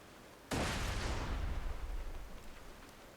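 A grenade bursts in water while fishing in the Borderlands 2 video game: one sudden loud blast with a roaring, splashy decay that fades over about two seconds, with no voices.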